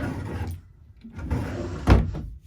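Drawers in a 2006 Land Roamer 285RK rear-kitchen fifth wheel RV being worked, several soft scrapes and knocks with a sharper thud near the end, close by, with no talking.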